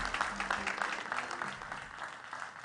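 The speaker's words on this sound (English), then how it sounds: "A round of applause for them." Steady applause from a live audience greets school teams stepping onstage at a televised secondary-school quiz competition, a continuous, moderately loud clatter of many hands lasting throughout.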